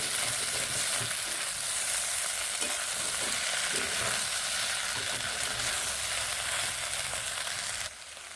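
Onion stalks frying in a pan while being stirred, a constant loud sizzle with soft scraping stir strokes throughout, easing slightly at the very end.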